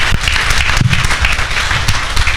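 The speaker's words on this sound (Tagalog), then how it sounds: "kapag kayo po'y pumapalakpak" A church congregation applauds during a sermon, loud dense clapping from many hands sustained throughout.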